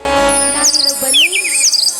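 Bright bird chirps and tweets ring out in short bursts over a sustained melodic musical backdrop.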